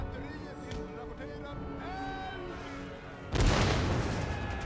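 Cannons fire in Total War: Empire, a heavy broadband burst of booming shots erupting near the end, loud and close after a stretch of steady battlefield ambience with tonal game sounds.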